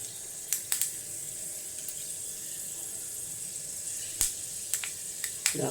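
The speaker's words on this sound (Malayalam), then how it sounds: "ഉലുവ ഒന്ന് പൊട്ടട്ടെ" Fenugreek seeds sputter in hot oil, a quiet background sizzle broken by several sharp, isolated pops scattered irregularly, close and fairly faint.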